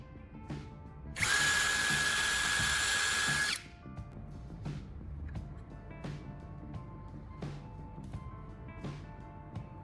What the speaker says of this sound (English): I'll drill 2 small pilot holes into the charger casing, close to where the original prongs were.